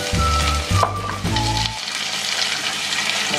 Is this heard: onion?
yes